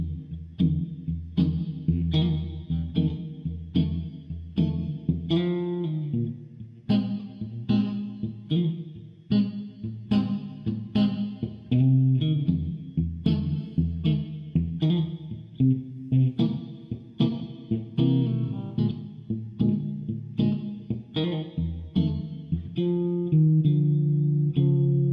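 Electric guitar plays a standard blues progression with a chromatic descending riff at the end, a steady rhythmic stream of picked notes and chords with a chorus-like effect throughout.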